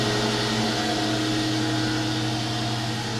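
Fadal 4020 VMC milling machine moving its axes in jog mode, a steady continuous mechanical whir and hum with tonal lines, close and even throughout without pauses.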